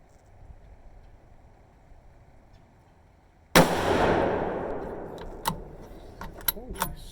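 A Savage 110 Predator Apex rifle in .243 Win fires one sharp, loud shot after a quiet stretch, followed by a long decaying echo and a few small clicks and knocks.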